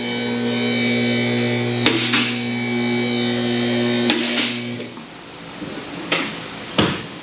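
Steady electric motor drone of a vehicle lift raising a 2008 Honda CR-V, with a couple of sharp clunks, then the motor cuts off and a few metallic latching knocks follow, nearby and without talk.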